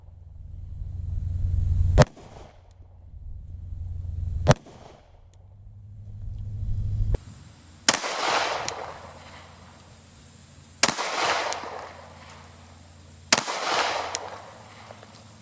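Handgun shots fired while sighting in a Holosun 407C red dot, three sharp loud reports spaced a few seconds apart, with quieter shots earlier, outdoors at a range with no talk.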